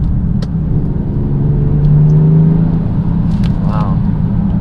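A 2020 Genesis G70 with twin turbos accelerating, a loud steady engine drone with a rising whine heard from inside the cabin, with a voice speaking over it.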